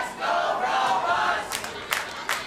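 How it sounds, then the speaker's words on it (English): Crowd at a robot fighting event chanting "Let's go Robots" in a sustained, reverberant roar, loud and steady, with a few sharp claps or bangs breaking through near the end. "Let's go Robots chant from the crowd"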